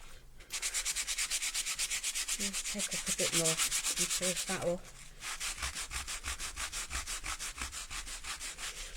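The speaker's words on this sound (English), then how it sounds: "That sanding pad's really not doing very well" A sanding pad rubs rhythmically over a craft surface in steady, even strokes, loud and close, continuing under a woman's brief spoken remark.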